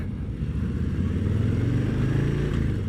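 A 2022 Harley-Davidson Low Rider ST (FXLRST) cruiser, a 720-pound bike, rumbles steadily while riding, a loud, continuous low engine drone with wind noise and no breaks.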